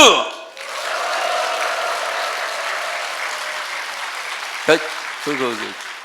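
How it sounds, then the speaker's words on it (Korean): A church congregation applauds and cheers, a sustained wash of clapping and shouting that follows a speaker's call and fades slightly, with a brief voice breaking through near the end. "여러분 함성과 함께 박수!"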